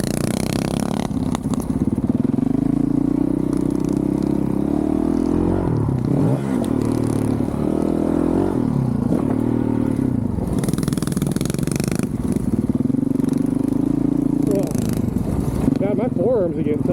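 A 2023 Honda CRF450RL dirt bike works a motocross track with jumps, its engine loud and close, revving up and dropping off repeatedly in waves as the throttle rises and falls, with some clatter and scraping between pulls.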